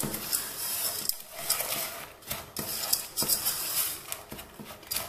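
Steady scraping and stirring in a pot of sweet popcorn with margarine, close by, with soft clinks of a utensil against the sides repeating in an uneven rhythm.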